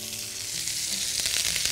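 Mushrooms sauté with garlic, salt and black pepper in olive oil, giving a steady, bright hissing sizzle with a few faint clicks toward the end.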